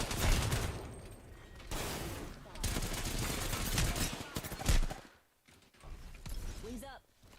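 Rapid bursts of gunfire rattle through an Apex Legends match alongside mechanical clicks and game effects, fading to a quieter stretch near the end.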